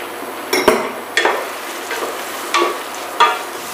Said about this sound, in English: Now we'll add in the onions, the garlic, and we're going to sweat that.